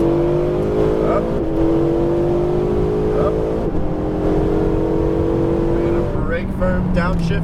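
Ferrari 488 GTB engine accelerating on a racetrack, a loud continuous rising engine note with brief dips at gear changes, heard up close from inside the car with an instructor talking over it.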